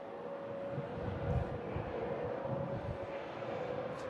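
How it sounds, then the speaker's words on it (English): A KLM airliner at Manchester Airport begins its takeoff roll toward Amsterdam Schiphol, a steady, distant low engine rumble and roar that swells slightly without breaks. "KLM starting her takeoff roll, heading back to Amsterdam Schiphol Airport."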